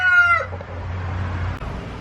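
A chicken gives a short, sharp call at the very start, followed by a quiet low background hum.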